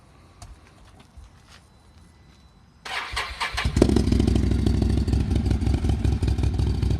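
Can-Am Maverick Sport XMR 1000R V-twin with a Yoshimura exhaust cranks and fires up, settling into a loud, close, deep rumbling idle after a few quiet seconds of clicks.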